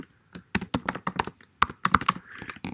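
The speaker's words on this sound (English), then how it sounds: "let's just type 8-digit password" Eight-digit password typed on a computer keyboard while creating a Google account: a short run of distinct, close key taps with brief pauses between clusters, no talking.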